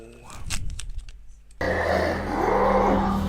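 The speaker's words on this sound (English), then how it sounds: "Wait, hear that? I hear it. I smell it. Ghouls." Ghouls in The Witcher 3 let out rough, guttural growls and roars, first in short bursts and then as a louder, sustained snarl over dense game ambience, with no voices.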